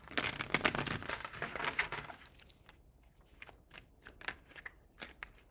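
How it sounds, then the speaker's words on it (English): Tarot cards are shuffled close up in a quick burst of crisp riffling and flicking, followed by softer, scattered taps and card handling. "Last shuffle."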